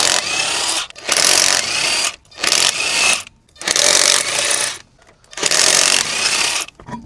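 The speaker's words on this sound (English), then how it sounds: "first thing we gotta remove is lug nuts and the spacer" A power tool spins lug nuts off a Ford Ranger wheel in five loud, close bursts of about a second each, separated by short pauses.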